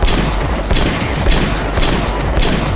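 Rapid bursts of gunfire from the video game Roblox Brookhaven crackle loud and dense, shots overlapping in a continuous volley with heavy booming thumps throughout.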